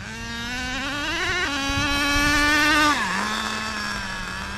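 Nitro RC car engine screaming at full throttle, a loud high-pitched whine that climbs and drops in pitch across the pass, steady and close with no talk.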